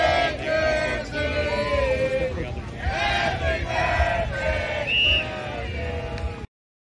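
A crowd of fans at the Dallas Cowboys training camp in Oxnard sings a birthday serenade to Ezekiel Elliott, a steady outdoor chorus of many voices with cheering mixed in, rising and falling for several seconds.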